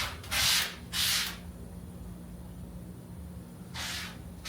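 Household sponge rubbing patina oil onto the panel of a weathered box Chevy Caprice convertible, giving three broad scrubbing swipes, two close together at the start and one near the end, with quiet pauses between.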